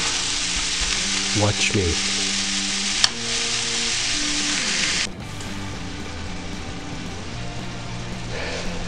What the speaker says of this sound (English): for those of you that think you can't cook hamburger from frozen,